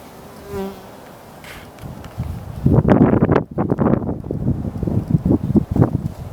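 Honeybees buzz around a hive entrance in cold, rainy weather, a dense, loud swarm of close passes swelling from a faint start into overlapping buzzing near the microphone.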